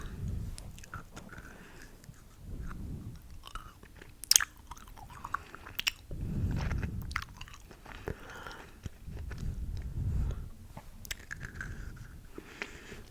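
Soft, close, wet chewing of chewy candy comes in slow repeated bursts, with a few small clicks and taps between them and no talking.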